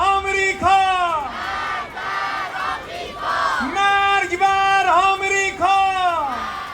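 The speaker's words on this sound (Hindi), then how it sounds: "भीड़ ने अमेरिका विरोधी नारे लगाए, पोस्टर फहराए।" A large crowd chanting anti-American slogans while an effigy of Donald Trump burns in Iran, a loud, sustained mass of voices rising and falling in rhythmic shouted waves.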